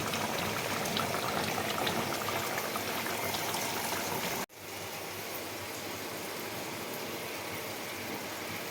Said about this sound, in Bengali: ঝোলটা এবার আমি ঢেলে নেব